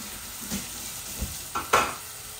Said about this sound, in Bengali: এখন আমি রসুনগুলা দিয়ে দিচ্ছি, এগুলা ফ্রোজেন করা রসুন।